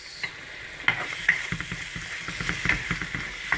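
Chicken tikka masala with onions frying on a low flame, a steady close sizzle broken by several sharp stirring scrapes of a spoon against the pan.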